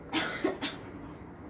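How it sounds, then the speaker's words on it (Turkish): A short cluster of about three close, dry coughs comes in quick succession, then a quiet tail with no talking. "Hepimiz öksürüyoruz bu ara."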